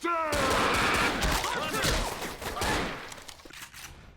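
Gunfire in Left 4 Dead 2 crackles in a dense fusillade for the first few seconds, then thins toward the end, with game noise and voices mixed underneath.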